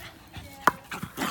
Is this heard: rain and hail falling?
no